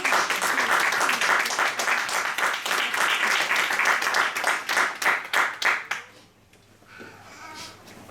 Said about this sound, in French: Nous acclamons le Seigneur.